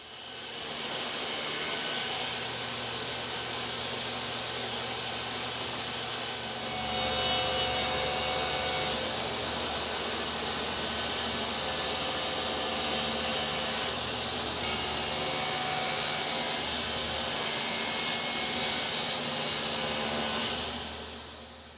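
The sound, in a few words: table saw cutting solid wood edges straight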